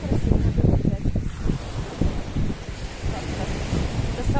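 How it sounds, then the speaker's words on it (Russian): Sea waves break and wash onto a shore in Spain, with a continuous roar of surf and heavy wind buffeting the microphone. "Но очень опасно, потому что море, и меня опять накроет волной."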